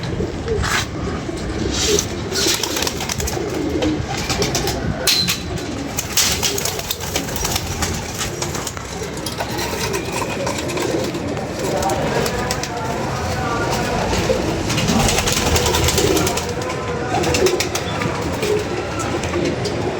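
Pigeons kept for flying coo softly and repeatedly in the background, their low burbling calls running under almost continuous talking across a long stretch.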